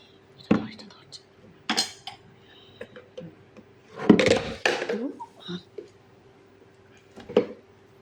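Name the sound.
spoon clinking while adding ghee to a kadai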